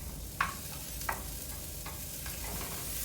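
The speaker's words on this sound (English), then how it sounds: "we're going to continually mix it and it's going to form curds" Eggs stirred continually in a frying pan with browned onions and peppers, forming curds for a French-style veggie omelette; faint steady sizzle with a few soft utensil scrapes against the pan, no talking.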